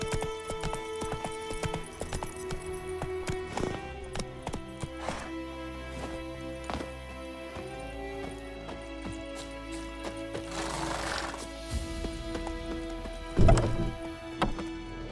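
A horse in The Witcher 3 trots with steady rhythmic hoofbeats close by, a brief whinny cutting in near the end over soft background music.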